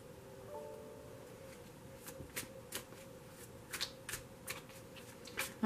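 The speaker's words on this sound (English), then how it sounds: "I'm just shuffling the next deck." A deck of tarot cards is shuffled by hand, with quiet soft riffles and crisp little slaps that come in uneven bursts, close and faint in an otherwise hushed room.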